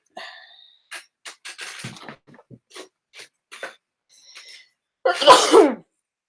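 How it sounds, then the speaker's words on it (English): A single sneeze from a person, loud and abrupt near the end, preceded by soft sniffs, breaths and small mouth noises in a quiet room. "Are you making me sneeze?"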